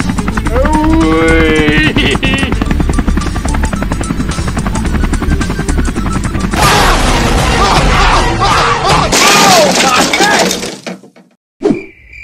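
A Roblox Brookhaven helicopter thrums steadily and loudly in the game, its rotor drone continuous for most of the stretch alongside crashing and popping game effects, with a voice talking over it early on before it cuts out near the end.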